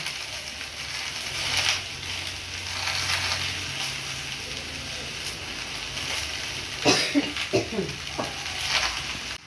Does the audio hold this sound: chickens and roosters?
no